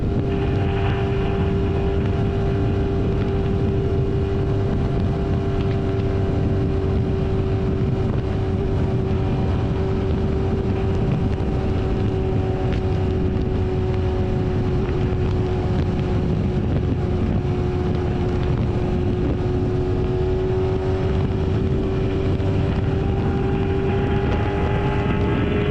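A BMW S1000RR-M motorcycle cruises along a road, its engine a steady loud drone with a slowly shifting pitch under constant wind rush, continuous throughout.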